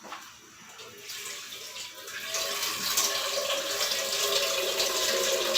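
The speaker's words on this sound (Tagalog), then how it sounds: "Ngayon, lagyan natin tubig." Water poured into a cooking pot for chicken tinola, a continuous running splash that grows louder after about two seconds and holds steady, close and alone.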